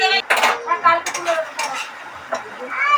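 Spatula stirring spicy chicken curry in a metal pot in a home kitchen, with repeated scraping and clinking of utensil against the pot, close and fairly loud, with no talking.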